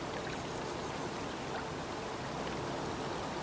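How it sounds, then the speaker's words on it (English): A deep, powerful river rushing past a boat, a steady dense roar of flowing water that stays loud and unbroken throughout with no voices. "I've been warned that this is a very deep, powerful river, and they're right."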